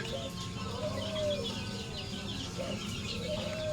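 Chickens cackle and cluck steadily close by, with rising calls repeating every second or so over a busy farmyard background; no distinct high chick peeping stands out.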